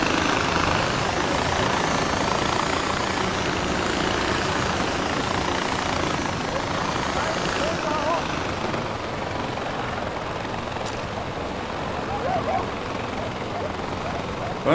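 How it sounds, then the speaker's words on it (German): An ultralight helicopter engine in Far Cry 4 drones steadily and loudly throughout, a dense unbroken rotor-and-engine rumble with only slight shifts in intensity, and someone talks now and then over it. "ein Ultraleicht-Heli hier."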